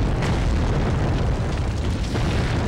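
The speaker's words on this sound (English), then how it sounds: "Now it's finally gonna explode." A loud, close explosion in the 2005 PS2 shooter Sniper Elite, a tripwire blast bursting in a dense low-heavy roar that stays thick and rumbling for nearly three seconds with no talk.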